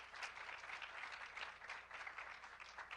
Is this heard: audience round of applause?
yes